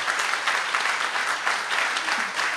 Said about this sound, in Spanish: Vamos a dar un aplauso a las mujeres, por favor